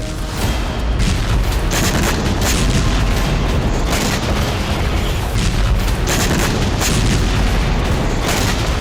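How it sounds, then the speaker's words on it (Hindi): Heavy military bombardment in the Russia–Ukraine war produces a loud, continuous rumble of overlapping booms and bursts throughout. "पुतिन सेना लगातार भीषण बमबारी कर रही है"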